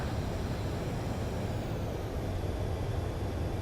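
An airplane approaching to land gives off a steady, broad engine roar that stays even and fairly loud throughout, with no voices.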